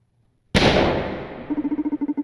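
A single sharp gunshot from a revolver in a video game, a loud close crack with a long decaying tail, followed by a rapid, even series of pulsing tones.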